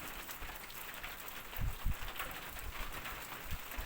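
Heavy rain from a storm passing over farm fields in Thailand, a steady broadband hiss running throughout with a few low thumps from gusts or drops hitting something nearby.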